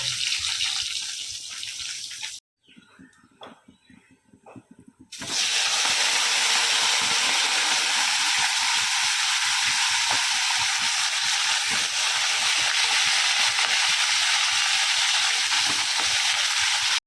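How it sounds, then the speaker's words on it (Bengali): Fish pieces sizzle in a pan in small batches beside a pot of cooking rice: a steady, close hissing fry that dips into a quieter stretch for a few seconds, then returns at full strength until the end. "এইদিকে ভাত বসিয়ে দিয়েছি, আর এইদিকে হচ্ছে মাছ ভাজা"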